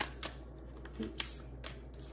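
Tarot cards being shuffled by hand during a reading, a few soft riffling flutters and light slaps over a low steady hum, close and quiet with no speech.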